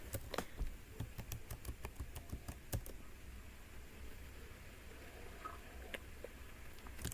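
Fingers type a login on a computer keyboard, a quick run of close, crisp key clicks that thins to a few scattered taps, quiet and alone.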